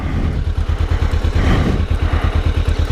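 A motorcycle engine idles close by with a quick, even putter of firing pulses and light mechanical clatter, steady and alone throughout.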